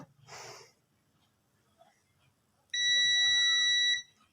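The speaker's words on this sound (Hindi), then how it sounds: "जी, मेरी बीप आ रही है।" A digital multimeter set to continuity gives one sustained electronic beep of about a second, clear and close, after a short breathy noise and quiet workshop background.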